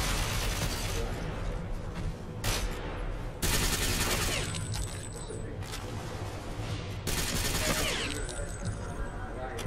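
Gunfire in Ghost Recon Phantoms on PC, with dense volleys of automatic shots and sharp bursts repeating throughout, loud and continuous, while a voice talks over the battle.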